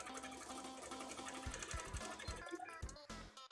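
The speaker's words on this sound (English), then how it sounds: "which is why I'm sewing it again" Sewing machine running a line of stitching on a cosplay petticoat, a steady rapid whirring that ends in several short stop-start bursts, close and fairly quiet.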